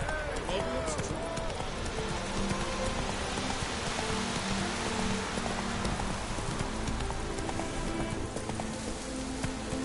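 Horse hooves trotting in The Witcher 3 game, a continuous clip-clop over rain-like ambient noise, while characters talk over the hoofbeats.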